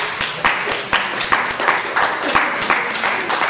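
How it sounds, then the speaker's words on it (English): Steady applause from a crowd, dense clapping with sharp individual claps rising and falling, fairly loud and continuous throughout. "give yourselves a round of applause"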